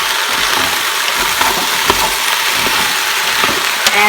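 Potatoes and vegetables sautéing in an Instant Pot, a constant close sizzle overlaid with soft scraping and clicking as a utensil stirs through the pot.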